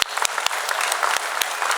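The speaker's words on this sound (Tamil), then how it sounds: "பலத்த கைத்தட்டல்கள்." Loud audience applause at a state-level Tamil student speech contest prize ceremony, a dense steady roar of clapping lasting throughout with sharp individual claps standing out.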